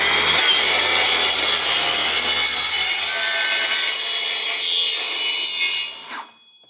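A cordless JEMAR track saw whines loudly as it cuts through wood in one continuous pass, trimming its rubber guide edge, then winds down and stops near the end.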